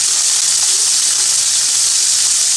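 Ginger and onion sizzle loudly in a hot pan for ginataang alimasag, a close, constant hiss of frying with no voices over it.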